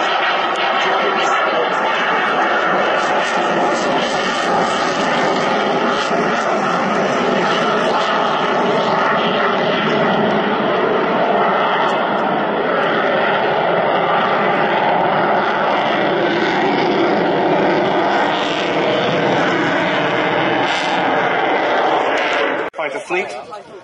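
A Eurofighter Typhoon jet flying at the Royal International Air Tattoo 2024 air show, with a sustained, loud engine roar lasting over twenty seconds and fading at the end while a commentator talks over it.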